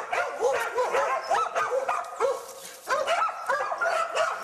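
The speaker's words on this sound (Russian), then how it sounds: "Собаки просто звереют" Sable-hunting dogs bark excitedly in rapid overlapping yaps and yips, near and loud, a continuous frantic chorus outdoors in the forest.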